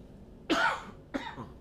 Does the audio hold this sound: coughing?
yes